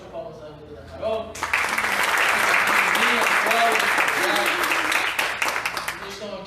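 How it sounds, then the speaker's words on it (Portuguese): A church congregation breaks into loud, sustained applause for a pastor's wife, swelling after a brief spoken lead-in and continuing steadily to the end with voices mixed in. "Uma salva de palmas na vida da Carol."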